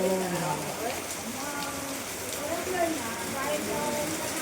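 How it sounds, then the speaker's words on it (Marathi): Heavy rain pours down in a steady, dense hiss that holds without pause, with faint voices murmuring beneath the downpour. "जोरदार पावसाचे आगमन होत आहे. खूप जोरदार पाऊस आहे."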